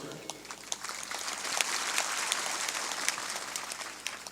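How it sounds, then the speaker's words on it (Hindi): An audience at a spiritual discourse claps hands together, a steady wash of many claps with a few sharper louder ones, fairly distant and soft, continuing throughout. "थोड़ा जोर से ताली बजाया करो।"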